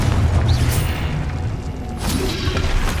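A Confringo spell explodes in Hogwarts Legacy with a heavy, booming blast followed by deep rumbling thuds and a second burst, loud and close throughout.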